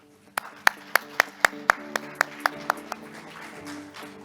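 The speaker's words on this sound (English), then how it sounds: "Please welcome him to the stage with a warm applause." A small group claps in a steady, evenly spaced rhythm to welcome a presenter to the stage at a conference opening ceremony, a dozen crisp claps that fade out toward the end while a voice murmurs faintly underneath.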